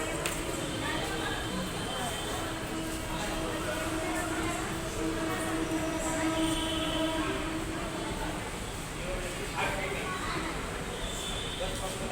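A metro station in Hyderabad, with a steady loud rumble and hum of a train and its rail carriages filling the space, while people talk over it throughout.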